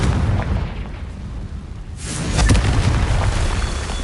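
Confringo spell blast in Hogwarts Legacy, a loud booming explosion bursting in around two seconds and rumbling on over a busy game soundscape.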